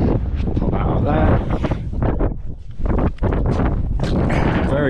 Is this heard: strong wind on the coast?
yes